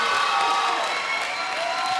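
A live TV studio audience applauds a couple dancing tango in Panama, steady clapping mixed with some cheering and crowd noise throughout.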